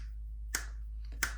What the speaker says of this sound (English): So if I snap my fingers,